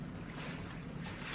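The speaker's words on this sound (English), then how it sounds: "Definitely diesels." Diesel boat engines as a sound effect in a live radio theatre play: a steady, continuous low rumble with broad watery wash, moderately loud and unbroken, with no voices.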